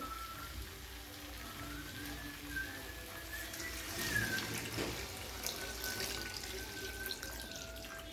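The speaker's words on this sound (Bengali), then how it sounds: "এবারে আমি এখানে দিয়ে দেবো পরিমাণ মতো জল।" Water is poured into a pan of mourola fish curry, making a fairly faint, continuous trickling wash with a slight whistle-like tone, and no one talks.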